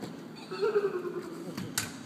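A young girl imitates a horse neigh backstage at a War Horse theatre production, giving one drawn-out whinnying call of about a second that rises and wavers, with faint voices and a brief sharp noise near the end.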